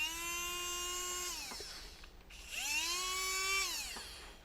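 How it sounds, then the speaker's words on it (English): A small 6-volt motor from a TOMY Power Up Speedway toy car, run on 9 volts, whines up to a high steady pitch twice, each run winding down with a falling tone, close and fairly loud. "Now these are 6-volt motors, but if you just put a 9-volt on there just for a little while,"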